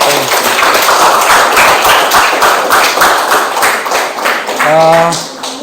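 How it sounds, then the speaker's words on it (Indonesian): Classroom applause for a student group, a dense burst of clapping from many hands filling most of the stretch, steady and fairly loud, thinning near the end as a voice briefly cuts in. "Beri tepuk tangan untuk kelompok 1."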